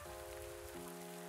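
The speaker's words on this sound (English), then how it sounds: "It's raining." Steady rain falling in the farming game Pumpkin Days, a soft even patter close by that runs throughout under a sustained musical tone, with no talking.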